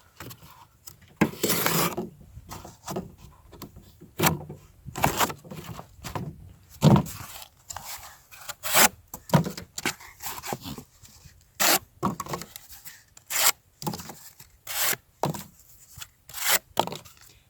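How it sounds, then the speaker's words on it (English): A drop point knife with a flat grind slices through cardboard in a series of short, sharp rasping strokes, repeated irregularly at close range and alone, with quiet gaps between cuts. "This knife breaks down cardboard like a champ."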